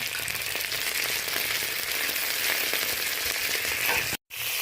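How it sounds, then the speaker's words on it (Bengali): Neem leaves fry in a tablespoon of hot mustard oil for a neem-and-brinjal dish, giving a steady, close, dense sizzle that runs evenly and then drops out briefly near the end. "অল্প 1 টেবিল চামচ সরষের তেল দিয়ে দিলাম নিমটা ভেজে নেওয়ার জন্য"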